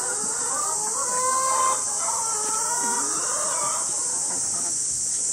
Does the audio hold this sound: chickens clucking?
yes